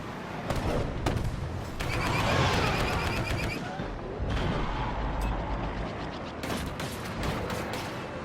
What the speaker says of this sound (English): Firing concussion missiles.